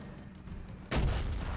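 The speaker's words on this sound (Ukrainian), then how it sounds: "Чую тут танк." A Type 74 (G) tank in War Thunder fires its cannon once with a sudden heavy boom partway through, preceded and followed by the low rumble of the engine.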